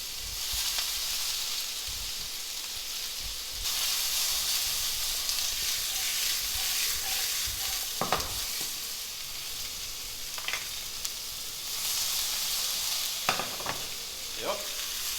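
Veal tendrons grill in a hot pan with a continuous bright sizzle and hiss, broken by a few sharp crackles and pops of spattering fat.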